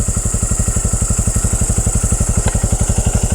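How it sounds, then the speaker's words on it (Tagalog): A motorcycle engine left idling on a creepy road late at night, its steady fast low-pitched putter continuing loud and close without a break, with a single faint click partway through. "Iwanan mo natin motor dyan guys, nakaandar."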